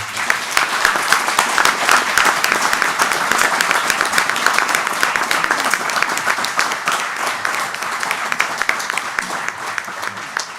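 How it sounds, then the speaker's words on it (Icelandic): Sustained applause from a crowd at a Grindavík residents' meeting on the town's future, dense and steady clapping filling the room for the whole stretch, with little fading. "þá bið ég ykkur að klappa"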